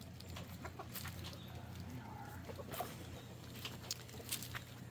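Chickens cluck softly and intermittently in the background over a steady low hum, with occasional sharper calls.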